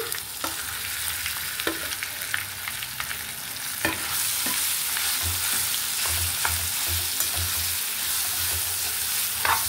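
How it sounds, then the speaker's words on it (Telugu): Pounded amla chutney fries in hot oil, giving a loud, dense sizzle that swells partway through, with a spoon scraping and stirring in bursts against the pan, close up and with no voices. "ఈ ఆయిల్లో కొంచెం ఈ పచ్చడి కూడా కొంచెం వేగాలి."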